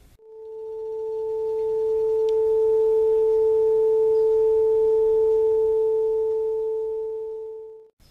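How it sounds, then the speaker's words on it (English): A 440 Hz sine wave from an audio generator holds one pure, steady tone that fades in, stays loud and unchanging for about eight seconds, then fades out, with nothing else heard. "I have my audio generator set up to produce a sine wave at exactly 440 cycles per second."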